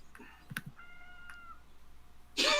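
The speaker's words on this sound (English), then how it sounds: "The cat has opinions too." A cat at a door meows several times indoors, short rising cries close to the listener, ending in a louder longer meow.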